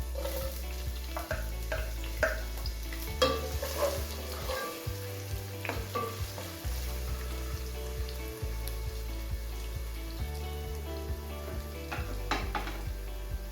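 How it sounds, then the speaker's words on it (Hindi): Steady sizzling of onion frying in oil in a pan, with occasional stirring scrapes and clinks of a utensil, close and continuous. "हमने 2 चम्मच ऑयल ऐड कर दी। एक अदद हम प्याज ऐड करते हैं, लार्ज साइज।"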